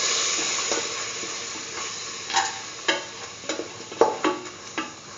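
Lentils being stirred into a sizzling curried mixture in a frying pan, with repeated scraping strokes of a spoon over a steady frying hiss, growing livelier toward the end, no voices.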